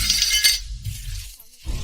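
A glass set down hard on a surface, giving a sharp clinking impact with a bright, glassy ring that fades under a low background rumble.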